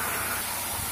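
Rohu fish sizzling as it fries in oil in a home kitchen pan, a steady close broadband hiss with no breaks and no talking.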